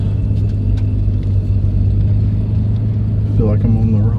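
A Nissan Skyline R32 idles steadily while warming up, a constant low rumble close by with a voice speaking briefly over it near the end.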